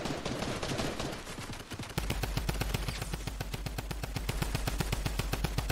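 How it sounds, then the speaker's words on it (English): Loud, sustained automatic gunfire in a video game: a dense, rapid stream of shots that settles into an even, fast rhythm halfway through, with no voices. "I'm getting shot at now."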